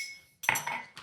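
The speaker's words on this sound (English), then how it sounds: "Stirring this together to dissolve this sugar." A spoon clinks and scrapes against a bowl in a short burst of stirring sugar and xanthan gum for sorbet, close and fairly loud after a moment of quiet.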